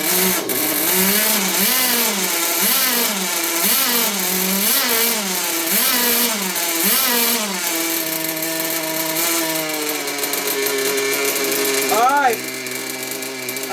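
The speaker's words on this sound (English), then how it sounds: "you can tell the engine is not running the right way" A Traxxas Nitro Hawk RC car's nitro engine, running lean, buzzes loudly and close, revving up and down in rapid rhythmic surges before settling into a steadier high drone, with one final sharp rev near the end.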